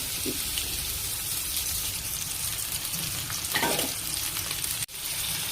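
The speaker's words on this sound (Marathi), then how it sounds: "मी फोडणी टाकत आहे आता" Oil sizzling loudly as an onion and chilli tempering with mustard seeds fries in a pan, a steady crackle with a brief burst of spattering and a faint clink near the end.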